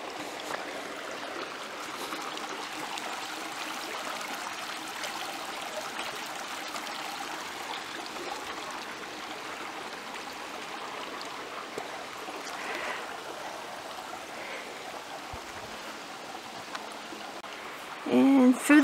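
A mountain stream on a hiking trail flows steadily and continuously at moderate loudness, a broad wash of running water heard nearby, with a brief louder rustle near the end.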